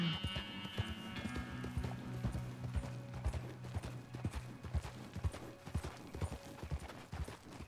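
Horse hoofbeats from riding in Red Dead Redemption II, a steady galloping clip-clop of hooves on the ground, close and continuous throughout with some background game sound.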